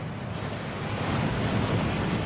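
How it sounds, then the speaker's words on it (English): A waterfall inside the Gringotts vaults in the Hogwarts Legacy video game gives a steady, dense rushing roar that fills the whole clip with constant broadband wash, close and loud. "That waterfall washes away all enchantments."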